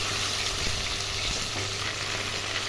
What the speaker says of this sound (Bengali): মশলাগুলো এখন ভেজে নিচ্ছি